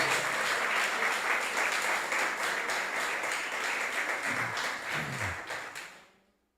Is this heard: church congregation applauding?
yes